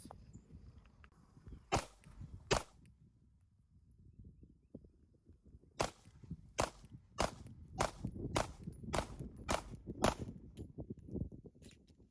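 A Glock 43X pistol fitted with a tungsten guide rod fires ten sharp shots: two early reports, a pause, then eight evenly spaced cracks in quick succession over a low outdoor rumble.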